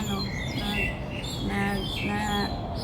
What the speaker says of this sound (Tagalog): Dito po sa park, marami pong mga ibon.